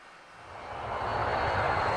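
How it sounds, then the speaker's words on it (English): A small propeller airplane in an animated railway scene drones steadily, growing slightly louder over two seconds as it flies off, with no talk. "Thomas watched the Duke's airplane fly away."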